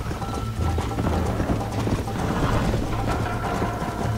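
A horse galloping along a road in the video game Red Dead Redemption 2 sends out rapid, continuous clip-clopping hooves, close and steady throughout, with faint mechanical rattling under it and no talking.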